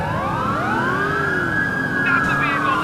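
Police car sirens in the GTA IV LCPD First Response video game, several loud overlapping wailing tones that rise and fall continuously from a fleet of cars chasing close by.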